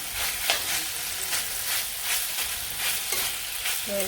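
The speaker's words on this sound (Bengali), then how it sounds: "মিশে নেই ভালো করে ভাজি করে নিচ্ছি" Potatoes and egg with spices being stirred and fried in a pan for a home-style curry, a steady close sizzle with soft scraping strokes and light clinks throughout, no voices.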